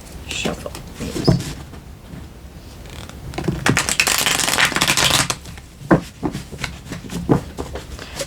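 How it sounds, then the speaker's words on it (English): Tarot cards are shuffled by hand in a steady run of riffling and flicking, with a few sharper card snaps and a denser burst in the middle, close and fairly loud with no talking. "Shuffle these."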